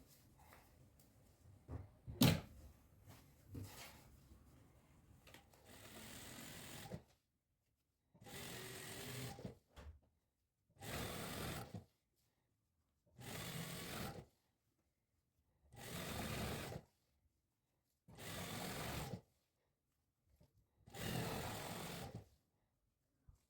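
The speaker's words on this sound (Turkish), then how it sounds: "Şimdi şu orta kısımdan da bir dikiş dikeceğim." Close-up sewing machine stitches the center seam of summer trousers in six or seven separate short runs, each a few seconds long, with quiet fabric handling between.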